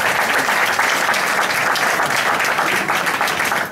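Audience applause for stage technicians at a live comedy theatre performance, steady dense clapping from a large crowd sustained throughout at full volume.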